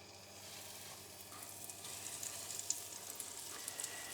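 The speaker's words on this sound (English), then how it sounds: "I'll put the chicken in and I'll leave it to sizzle for 2 to 3 minutes" Steady, close hiss of chicken sizzling in hot oil, with faint scattered crackles and pops and no talking.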